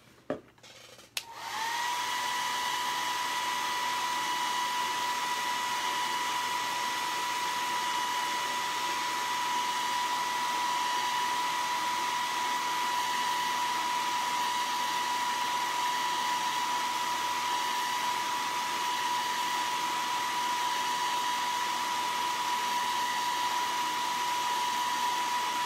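A hair dryer dries wooden acorn blanks, starting with a click and then running as a loud, steady whine with an even tone for the rest of the clip, close to the microphone.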